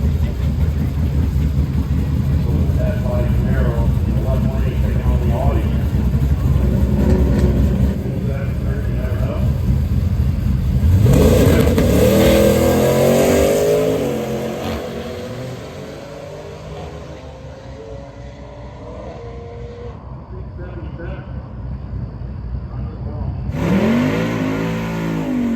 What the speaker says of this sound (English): Here we have an Audi versus a Camaro.